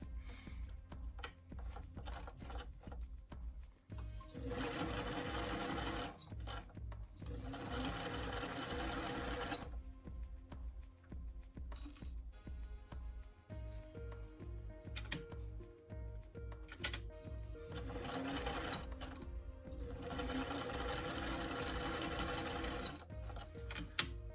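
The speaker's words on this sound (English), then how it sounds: "we're going to go ahead and sew those first" A sewing machine stitching pieces of a fabric doll dress form, with a tight short stitch: rapid mechanical chattering runs in several bursts of a few seconds each, separated by pauses with clicks and handling noise, close and clear.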